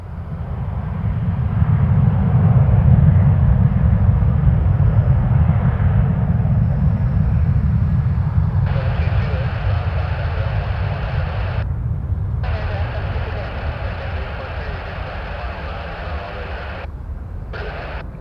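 A WestJet Boeing 737-700 at Toronto Pearson Airport, its engines making a loud, steady low rumble that slowly fades, mixed with a broadband roar and short radio-like bursts.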